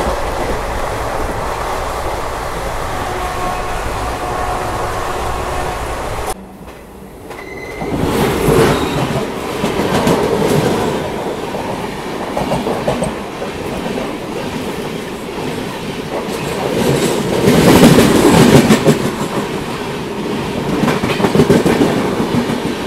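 An Intercity Express train running from Rani Kamlapati Bhopal to Jabalpur, with loud, continuous rail rumble and rhythmic clickety-clack heard from inside a coach. The roar dips briefly, then swells again with wheel noise. Nobody speaks.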